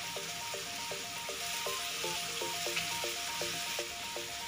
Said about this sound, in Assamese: গলি নোযোৱালৈকে আমি এইদৰে ভালদৰে ভাজি থাকিম মছলাখিনি